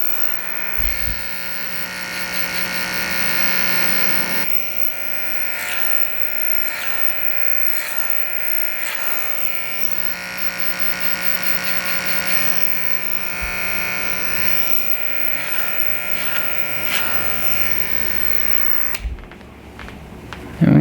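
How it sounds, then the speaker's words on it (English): Electric hair clipper used as a tapering clipper on a neck taper fade, a steady close buzzing hum that runs continuously for about twenty seconds with slight shifts in pitch as it moves over the hair. "it's a great tapering clipper"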